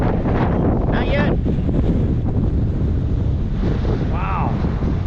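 Steady, loud wind buffets the microphone out at the exposed point of St. Joseph Peninsula on the Gulf, a constant roar with a faint wash of surf beneath it and brief voices in between.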